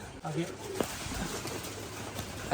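Giribaz high-flying pigeons at a pigeon farm coo and flutter softly in the background, faint and close, with people talking over them.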